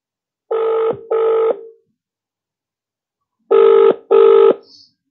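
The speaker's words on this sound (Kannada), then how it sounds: "ಫೋನ್ ರಿಂಗ್ ಆಗ್ತಾ ಇದೆ" Ringback tone of an outgoing telephone call: two loud double-pulse rings separated by a silent gap, each pair made of two short, steady buzzing tones.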